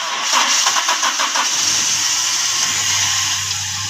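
A car engine cranks with a rapid whirring starter, then catches and settles into a steady idle hum.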